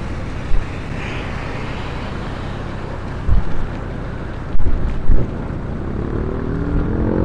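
Strong wind roars steadily against the microphone in a broad, loud rush, with a few short heavier gusts and thumps, and no voices.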